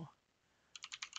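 Quick, faint keystrokes on a computer keyboard entering a command, a short burst of light clicks coming after a brief pause.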